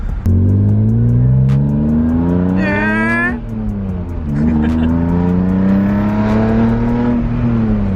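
A BMW E36 M3 drift car drives past loudly and up close, its engine revving and climbing through the gears in a steady, continuous roar, with a brief high tire squeal partway through.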